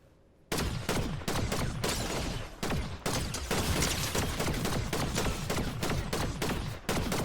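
Rapid video game gunfire in a superhero shooter, a dense loud burst of repeated shots starting abruptly after a short quiet, continuing with brief gaps, no talk.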